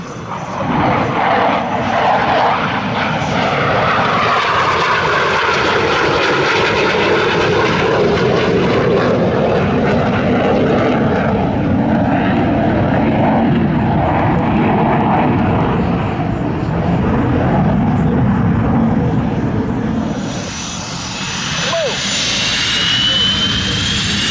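A loud, steady roar of Blue Angels jets passing overhead at an air show at NAS Pensacola, with the pitch sweeping as the aircraft fly by and a commentator's voice underneath.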